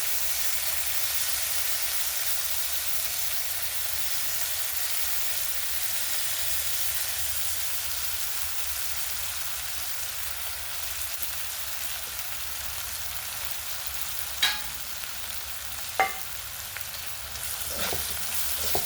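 Dal sizzling in hot oil in a pan while cooking a curd chili dish, a continuous loud, even frying hiss with a few sharp clicks near the end.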